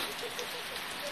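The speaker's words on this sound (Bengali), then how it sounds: "বৃষ্টি হয়েই যাচ্ছে।" Steady rain hisses down on a surface nearby, a dense, even patter with no break across the short moment.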